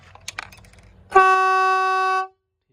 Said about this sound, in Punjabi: ਹਾਰਨ ਕਰ ਮਾਰ ਕੇ ਦਿਖਾਇਓ ਹਾਂ ਕਿੰਨੀ ਕੁ ਆਵਾਜ਼ ਦੇਖਦੇ ਆ